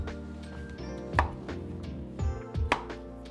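A knife cuts through an English cucumber on a board, giving a few sharp, close chopping thuds spaced apart against a quiet kitchen background.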